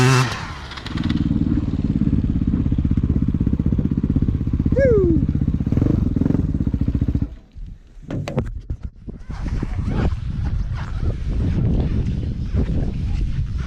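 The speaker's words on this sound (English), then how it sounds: "Fair few hours riding, and always a good time on a motorbike" A motorbike on a long ride toward the Dakar Rally holds a steady, loud engine drone for about seven seconds, then the sound drops and shifts into rougher, varied engine and road noise.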